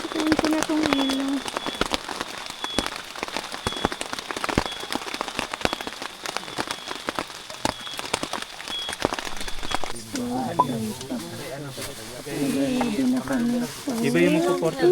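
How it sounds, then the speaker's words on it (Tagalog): Rain patters steadily at a mountain trail camp on Mount Apo along the Sta Cruz–Bansalan route, a dense, continuous hiss with scattered drops, while people talk faintly over it toward the end. "Ulan"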